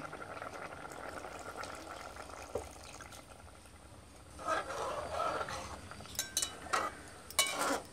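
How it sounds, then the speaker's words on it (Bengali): Tamarind water poured into a simmering pot of eggplant and fish head curry, a steady bubbling boil with splashy pouring bursts toward the end, fairly close and alone without talk. "আর এখন দেবো আমি সেই তেঁতুলগুলা জল।"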